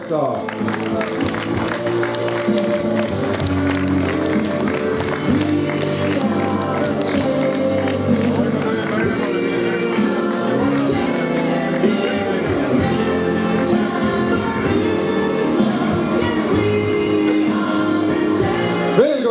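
A crowd applauds triathlon champions at the Aidu cross triathlon award ceremony in Maidla, with sustained clapping and some shouts mixed under a voice and tonal background sound throughout.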